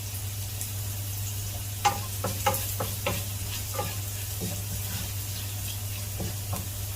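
Chopped onion with green chillies tossed into a frying pan for a Kerala pappadam thoran, a soft steady sizzle broken by a series of light clicks and scrapes from stirring, with a low hum underneath.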